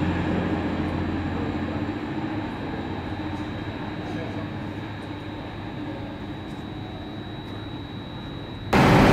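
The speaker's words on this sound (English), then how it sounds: "And arriving in now, out of the blue, we have a service bound for Newcastle." A train bound for Newcastle rumbles steadily into Manchester Victoria station, a sustained low mechanical roar with a faint high whine, louder at the very end.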